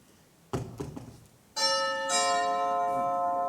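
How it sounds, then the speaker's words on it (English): A few soft knocks and thuds come first, then a doorbell rings out in one long, resonant, sustained peal that fills the room, in a staged production of Oscar Wilde's The Importance of Being Earnest. "Only relatives or creditors ever ring a bell in that Wagnerian manner."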